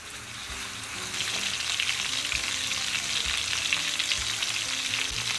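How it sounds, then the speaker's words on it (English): Chicken pieces browning in a hot frying pan give a steady, dense sizzle and crackle that swells after the first second and holds, close and even with no voices. "This is me trying to brown our chicken a little bit."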